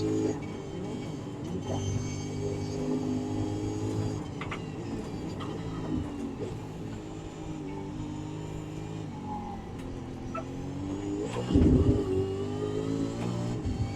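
A V8 Supercar engine in a sim racing game at Canadian Tire Motorsport Park, droning steadily and revving through gear changes, with a louder surge near the end; no voices.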